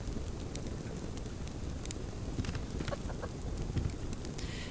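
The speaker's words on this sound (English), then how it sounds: "Got our lovely chicken down there under the stairs." Chicken clucking in the survival game Subsistence, the bird kept under the stairs of a base; soft scattered clucks sit over a steady low ambient rumble, with no talking.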